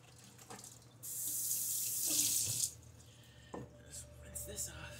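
Water running from a tap to rinse a container, a faint hissing stream flowing for about a second and a half amid quiet handling noises, with a voice heard briefly.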